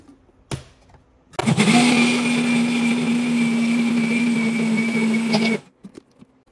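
Blender whirring steadily for about four seconds while mixing a pumpkin and beef smoothie for puppies, a loud continuous motor drone that starts abruptly and cuts off, with a few small knocks before and after.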